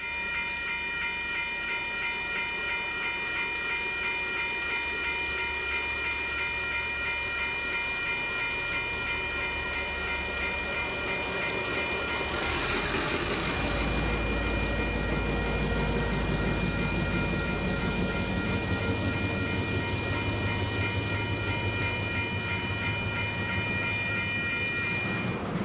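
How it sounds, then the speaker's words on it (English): Steam Incorporated's train runs on rails between Paekakariki and Glenbrook, New Zealand, with a steady rolling rumble, a sustained whistle-like tone, and the noise growing louder midway as it passes close, with no voices. "Steam Incorporated travelled north from Paikokariki to Glenbrook to reposition their train for the Christchurch Press Readers' Rail Tour."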